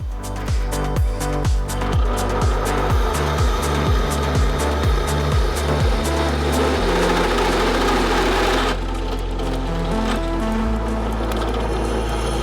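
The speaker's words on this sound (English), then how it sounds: "I want to drill out the two pieces of metal that are going to sandwich together and make the spindles on the front of the" Drill boring into metal go-kart spindle pieces, a steady loud motor whine with a run of rhythmic pulsing cuts early on, then a continuous grinding drone that shifts pitch as the bit bites, close and alone.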